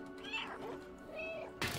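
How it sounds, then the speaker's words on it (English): A cat in the video game Stray gives two drawn-out meows, close and fairly soft, and a brief sharp noise cuts in at the end. "I'm about to keep meowing."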